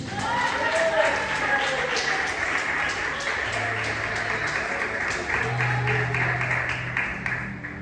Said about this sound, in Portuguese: Quem crê, das fortes palmas para Jesus.